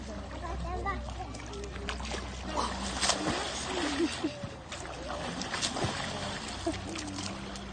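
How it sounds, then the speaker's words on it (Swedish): A child kicking water in a garden, producing faint intermittent splashes and splatters, with an adult talking and a voice heard over them. "Sparka vattnet på monstret."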